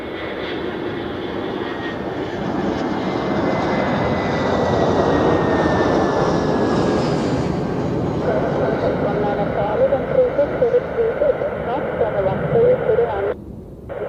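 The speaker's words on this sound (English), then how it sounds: "Here we have the A320 of Edelweiss, flying for Swiss." An Edelweiss Airbus A320 jet airliner at Zurich Airport, its engine roar building and passing loudly with a gliding whine, then fading into lighter rumble with faint talk underneath.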